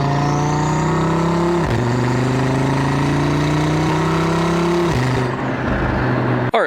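An Audi TT RS accelerates hard with a strong engine note that climbs steadily through the revs, breaks sharply at two gear changes and climbs again, loud and close from inside the car.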